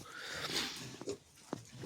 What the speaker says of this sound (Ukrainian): Ну, то свинка. Це ж це кабанчик